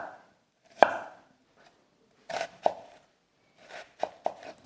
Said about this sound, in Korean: 조그만 큐브 형태로 잘게 써시는 게